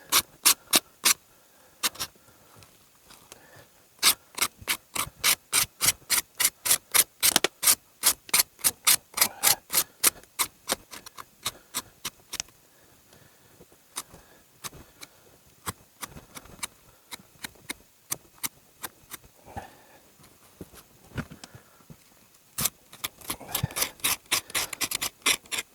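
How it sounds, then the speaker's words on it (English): A solid pointed knife scrapes a moose nose during preparation, producing long runs of quick, sharp rasping strokes, close and fairly loud, with brief pauses between the bursts and no talking. "Continue scraping that off, almost there on this side."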